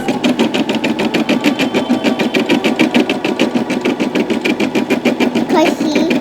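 An embroidery machine stitches an Owlette PJ Masks design, its needle hammering in a fast, even mechanical rhythm close by, with a brief extra clatter near the end.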